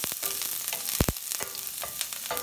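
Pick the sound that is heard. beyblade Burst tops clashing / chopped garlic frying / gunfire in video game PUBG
chopped garlic frying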